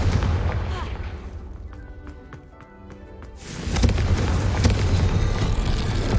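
Confringo fire spell blast in the video game Hogwarts Legacy, a loud booming explosion with rumbling debris that fades into a quieter crackling lull before another heavy roaring burst swells back up.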